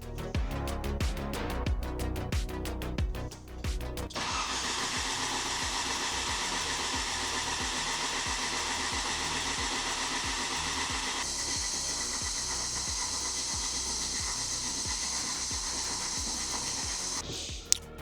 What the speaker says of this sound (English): we'll crank it over until we get oil pressure